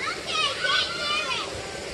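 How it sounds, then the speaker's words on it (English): Children playing beside a small waterfall near a reservoir, their high excited voices and shouts carrying over a steady wash of rushing water. "Children having a good time."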